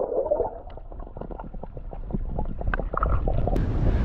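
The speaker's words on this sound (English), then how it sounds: "it's insanely windy and we're paddling against the wind" Strong wind buffets the microphone in a continuous low rumble while paddle boarding on the river in Austin, with scattered knocks and splashes of water throughout.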